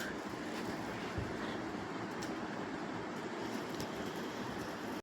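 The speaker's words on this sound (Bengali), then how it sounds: "তো ট্রেন যাচ্ছে, তোমরা দেখতেই পাচ্ছ।" A train rolling past a road level crossing, heard as a continuous, fairly loud rumbling roar with a few faint clanks.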